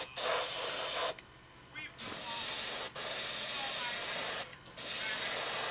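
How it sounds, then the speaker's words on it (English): An airbrush sprays blue paint onto a model in short hissing bursts, separated by brief pauses, close and fairly quiet. "put a little bit of blue in the airbrush, but touching up the overspray areas"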